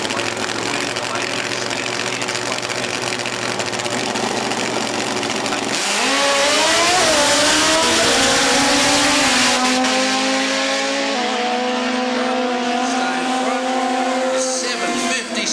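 A drag racing competition bike at the Winter Nats launches down the track: a loud, steady idle rumble, then a sudden roar as the engine revs hard, with the pitch climbing in stepped gear changes as it pulls away.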